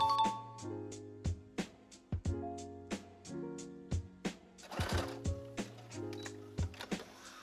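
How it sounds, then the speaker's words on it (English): A sewing machine runs basting stitches around the curved edge of a shirt sleeve in short bursts, with a steady mechanical whir broken by frequent sharp clicks and pauses, close and alone. "I'm going to put 2 basting stitches around the curved edge of the sleeve"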